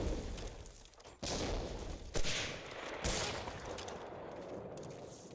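Explosions and gunfire in Medal of Honor: Allied Assault during a competitive sniper league match, with several sharp booming bursts and continuous battle noise at moderate loudness.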